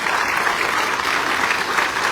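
A crowd at an outdoor BART transit groundbreaking ceremony applauds in a steady, full roar of clapping that holds at an even level throughout.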